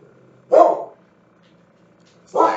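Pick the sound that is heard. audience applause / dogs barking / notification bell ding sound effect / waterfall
dogs barking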